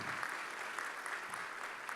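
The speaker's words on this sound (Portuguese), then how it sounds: "Uma salva de palmas para eles." A congregation claps during a church service, a steady crowd applause that holds evenly throughout without speech.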